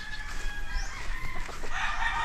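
Chickens cluck and a rooster crows among farm fowl in a chick-rearing area of a farm, with steady outdoor background noise and overlapping calls throughout.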